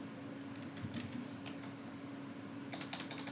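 Keyboard typing while code is entered in Android Studio: sparse, quiet keystrokes early on, then a quicker cluster of clicks near the end, faint over a low steady hum.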